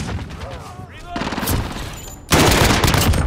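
Rapid automatic fire from an M2K carbine in a first-person shooter video game, a quieter stretch of shots followed by a sudden loud, sustained burst of gunfire, with a voice talking over parts of it.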